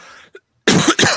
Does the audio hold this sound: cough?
yes